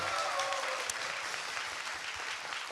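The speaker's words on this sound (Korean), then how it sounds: "여러분 박수 한번 좀 부탁드리겠습니다." Studio audience applause during a Korean talk show taping, a brief even burst of many people clapping together at steady loudness with no talk over it.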